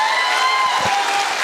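An audience bursts into applause at a motivational success-mindset seminar, greeting a team leader just introduced on stage. The clapping is dense and continuous, filling the whole moment with steady crowd noise and no voices over it.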